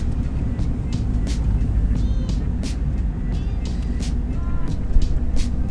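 A restored Honda Integra DC2 drives along a road in Japan, a steady low engine and road rumble heard from inside the car, with a few brief voices over it.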